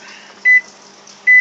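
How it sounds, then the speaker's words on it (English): A microwave oven timer, used while heating a Stouffer's frozen dinner entree, gives two loud, clean electronic beeps about a second apart over a quiet room hum, with no talking. "Now it beeps, so now I press the starter to stop."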